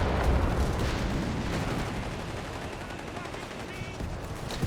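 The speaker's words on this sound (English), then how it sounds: "More grenades going off over to Mule again." Grenades exploding amid a Company of Heroes 3 battle between Afrika Korps and Allied forces, a dense, continuous roar of blasts and gunfire filling the whole stretch, with a voice speaking over it.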